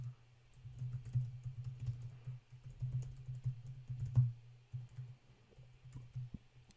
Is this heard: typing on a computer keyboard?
yes